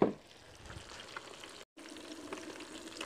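Mojarra fish fry in hot oil with a steady, soft crackling sizzle, faint and continuous apart from a brief dropout partway through.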